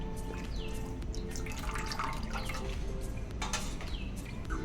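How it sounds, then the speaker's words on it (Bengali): Eggs being rinsed clean with water at home: close, continuous trickling and scattered dripping splashes with no voices. "এবার ডিমগুলোকে একটু পরিষ্কার করে ধুয়ে নিতে হবে"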